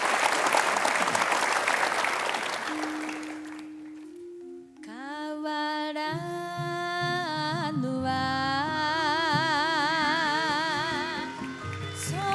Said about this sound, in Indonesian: mari kita berikan Ayo. aplaus untuk Hiromi